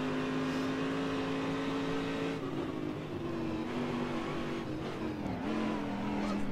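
Corvette DP race car engine in the video game Assetto Corsa, a loud sustained droning rev with the pitch shifting between gears, continuous and close.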